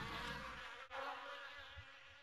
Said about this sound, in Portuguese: Esse jogo aqui, ele tem esse somzinho de mosquito,